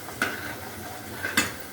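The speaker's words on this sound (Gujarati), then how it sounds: "પછી આને ફ્રાય કરી નાખ્યા ઘીમાં, કાજુને પનીરને ફ્રાય કરી નાખ્યું." Cashews and paneer frying in ghee for a green capsicum paneer Punjabi curry give a steady, low sizzle close by, punctuated by two sharp clinks of a utensil against the pan.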